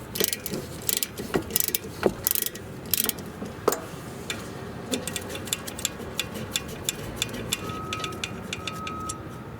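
Impact gun on the 14mm rear brake caliper bolts of a 2002-2006 Acura RSX, sharp ratcheting bursts early on followed by lighter repeated clicking and ticking, close up with no talk.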